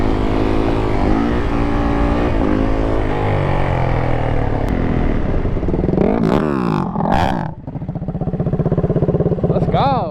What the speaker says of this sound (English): Boy got the racing dirt bike.